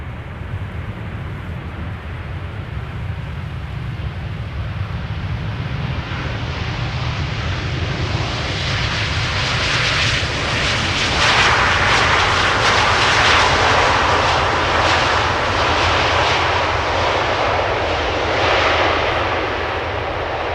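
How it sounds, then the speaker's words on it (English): A Corendon Airbus A350-900 landing at Amsterdam Schiphol gives a sustained, loud jet engine roar that swells and broadens midway, then holds steady, with no voices. "This is Corendon, flight 598, arriving from Willemstad, Curaçao."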